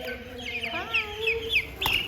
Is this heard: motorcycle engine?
no